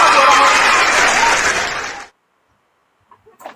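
An audience claps loudly for about two seconds before the applause cuts off abruptly, followed by near silence and a few faint scattered sounds.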